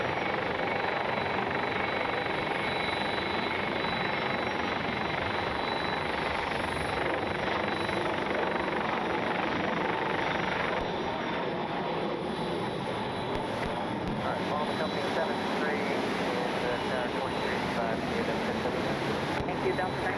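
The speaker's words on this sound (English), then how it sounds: "heading to Houston, one of only a couple of the Skittles livery A320 still in the fleet" A Spirit Airlines Airbus A320 in multicolor livery at Atlanta's Hartsfield-Jackson airport, a continuous broad engine roar and rumble from a distance, steady throughout with a slight shift partway, with talk over it.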